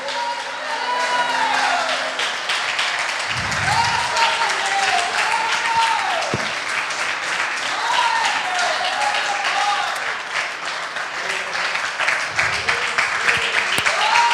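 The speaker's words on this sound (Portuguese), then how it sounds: "Glórias a Deus, e as palmas para Jesus" A church congregation claps steadily throughout a worship service, a dense continuous patter running under a voice and sung or chanted lines.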